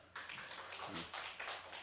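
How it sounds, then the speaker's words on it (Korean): A church congregation at a Wednesday worship service claps along in a steady, regular rhythm. The claps sound faint and distant, with no voices over them. "여러분이 기도하실 분들은 박수만 쳐줍시다."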